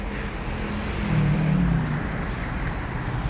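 Steady roadway traffic rumble on a congested street in Takasusi, a continuous low drone of idling and crawling vehicles with a slightly louder engine swell midway, no voices.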